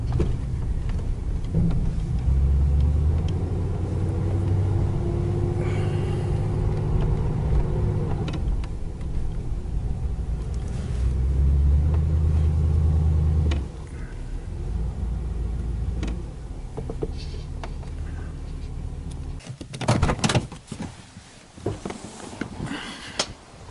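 1988 Chevrolet Caprice engine running while driven gently without hard acceleration, a steady low rumble with a faint rising whine, easing off partway through, followed by brief bumps and rattles near the end.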